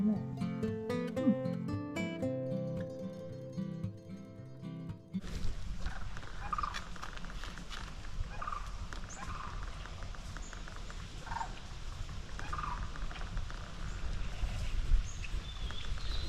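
Wild birds call at the Rio Grande Nature Center in New Mexico: faint, scattered chirps and calls sound over steady outdoor ambience after a short stretch of music at the start.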